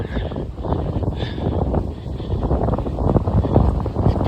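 Wind in Castellacca buffets the microphone with a continuous rough, rumbling roar, loud and gusty for the whole few seconds, with no voices over it.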